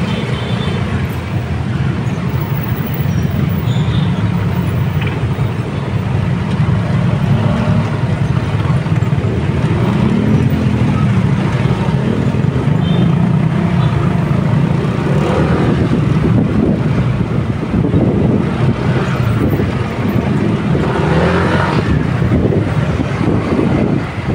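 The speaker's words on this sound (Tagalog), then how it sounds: "Traffic pa rin." Steady evening road traffic rumbles continuously, a dense low roar of cars and engines passing close by for the whole stretch, with no break or talk.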